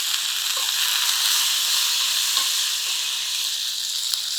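Curry leaves fry in hot oil for a brinjal masala curry, giving a steady, dense sizzle and hiss that holds the whole time at close range, with a few faint pops.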